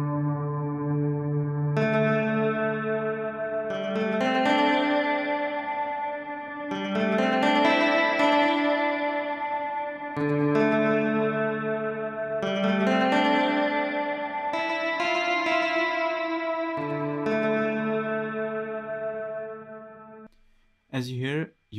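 An auto-sampled synthesizer patch processed through a Valhalla effect plugin in MainStage plays sustained, chorus-washed chords with lush reverb and echo, shifting in swelling phrases for about twenty seconds before stopping abruptly.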